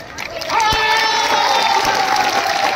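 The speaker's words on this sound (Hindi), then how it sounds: "ये देखो महिलाएं ताली बजा रही हैं।" Women in a crowd at a political rally in Simdega clap and cheer together in a loud, sustained wash of applause and crowd noise, with a faint voice ringing out over it.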